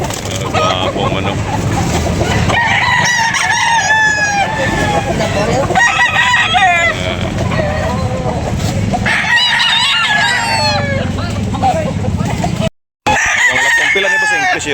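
Roosters crow repeatedly at a gamefowl market, several loud calls overlapping one another amid clucking fowl, with people talking nearby throughout.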